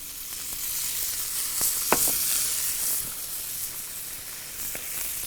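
Chicken livers in marinating oil sizzle steadily in a hot pan with lemon juice, a constant close frying hiss broken by a few sharp pops and crackles.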